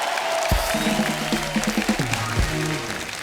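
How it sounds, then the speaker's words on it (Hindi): A studio audience at The Kapil Sharma Show applauds in a continuous rushing wash, with musical tones and voices sounding over it. "तालियां हो जाए।"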